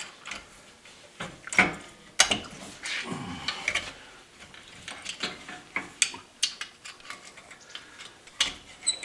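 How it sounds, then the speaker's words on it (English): A screwdriver pries at the brake caliper on a Ford Mustang, producing scattered metallic clicks, scrapes and small knocks at irregular intervals, close up and fairly quiet, with no talk. "you could pry on the rotor itself to get the caliper off"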